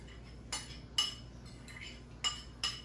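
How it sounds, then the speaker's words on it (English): Metal utensil clinking against a bowl while sausage-stuffed mushroom filling is mixed: five or six sharp, faint taps spaced about half a second apart over quiet background, with no talking. "Mix that on up."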